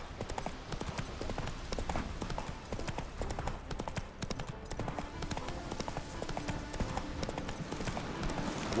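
A horse gallops in The Witcher 3, with steady rapid clip-clop hoofbeats running continuously under dense game music and ambience, loud and close throughout.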